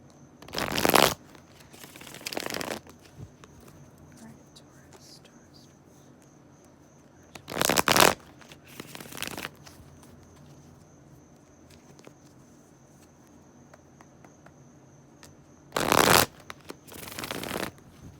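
Tarot cards being shuffled in three short bursts of quick riffling and slapping, spaced several seconds apart, with quiet room tone and faint insect chirping between them.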